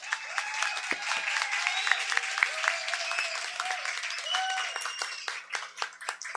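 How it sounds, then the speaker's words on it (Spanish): Audience applause at a science talk event, a steady wash of clapping from a crowd lasting throughout, with some faint voices and whistle-like tones mixed in. "Un aplauso por favor para Gabriel Helguero."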